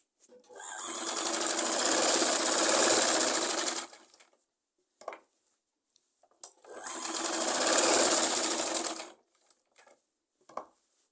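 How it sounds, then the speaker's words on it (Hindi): An electric sewing machine stitches a Punjabi suit with buckram inside the folded fabric, in two close, loud whirring bursts of a few seconds each, separated by quiet fabric handling and small clicks. "उसके साथ साथ से हमने सिलाई लगाते हुए इसको पूरा कंप्लीट करना है।"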